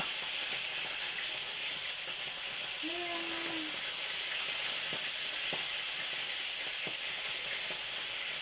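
Steady hissing sizzle of sliced tuna frying in hot oil, with a few faint clicks and a brief tone in the background.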